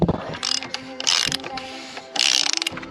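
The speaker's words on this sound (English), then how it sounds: "So we got a 15/16 socket on here to loosen up this plastic oil filter housing with a couple extensions." A ratchet with a 15/16 socket on a couple of extensions loosens the plastic oil filter housing on a 2017 Chrysler Pacifica, giving loud, close bursts of rapid clicking separated by short pauses.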